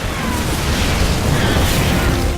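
Siege tanks in StarCraft 2 fire a continuous barrage of loud explosions and booms, dense overlapping blasts with battle noise and no clear gaps.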